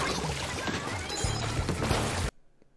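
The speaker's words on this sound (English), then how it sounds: "That is the sound of an ink mine being detonated" An ink mine detonating in Splatoon 3 gives a loud, dense splattering burst with wet smashing crashes that runs for about two seconds, then stops abruptly into near silence.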